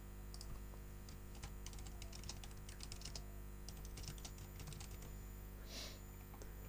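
Students type an assignment on a computer keyboard, with quick irregular key clicks that come in bursts and pauses, close and fairly faint over a steady room hum.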